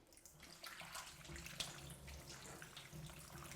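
Water poured from a jug splashes over cuttlefish being washed in a kitchen, a faint, continuous running and trickling sound with no talk over it.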